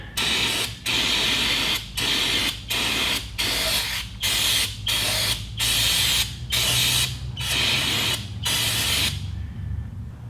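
Brake cleaner sprays from an aerosol can during an oil change on a Harley-Davidson Touring motorcycle, in about a dozen loud, close hissing bursts at a steady rhythm with brief gaps, then fading out.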